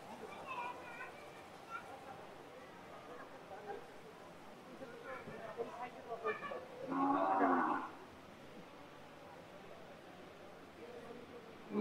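Cattle and calves of a very small breed stand on a farm, where a single drawn-out moo rises near the middle over quiet background voices and faint rustling.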